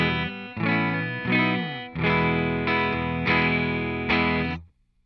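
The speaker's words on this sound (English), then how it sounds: "Here is what my guitar sounds like, just clean without any distortion" A clean electric guitar played straight into the amp without pedals, a handful of ringing chords struck one after another, each left to sustain before the next, closing with a short final decay.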